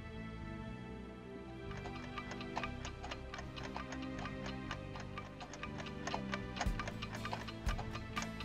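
A wall clock ticks in an even, steady rhythm, fairly quiet and alone, with a soft tonal background underneath.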